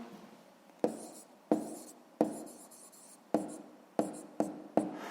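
Pen strokes scratch across paper as a maths solution is written out by hand, in seven distinct bursts with short pauses between them, close and fairly quiet with no talking.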